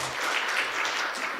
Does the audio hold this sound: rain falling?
no